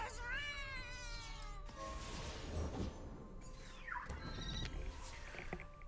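A cat card in the Legends of Runeterra video game lets out synthesized meows and whinny-like cries over dense, busy game effects and background music, with several short calls in the first seconds.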